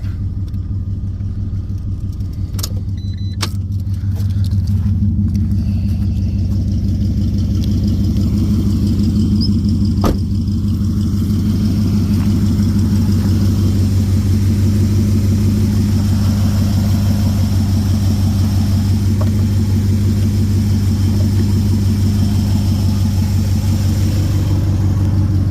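A 1967 Chevrolet Chevelle engine cold-starts after a few cranking clicks and catches, then settles into a loud, steady, low idle rumble close by that runs unbroken for over twenty seconds.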